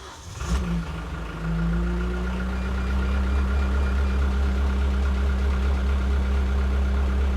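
A Wacker Neuson WL32 compact loader's diesel engine cranks and catches, then settles into a steady, rumbling idle with a low throbbing hum that continues to the end.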